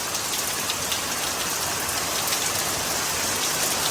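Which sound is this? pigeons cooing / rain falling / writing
rain falling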